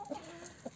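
Chickens cluck softly in a coop where Ameraucana chicks and a young rooster are kept, with a few short calls close by over a quiet background.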